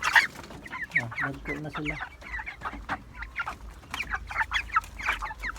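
Several chickens cluck in short, busy bursts close by, with a low rumble underneath and a voice speaking briefly.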